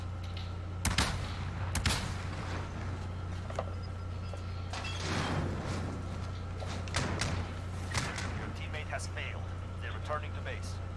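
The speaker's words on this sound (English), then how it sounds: "Ah, it's a shotgun." Shotgun blasts in Call of Duty Warzone, a few sharp reports scattered over steady game background hum while a player talks.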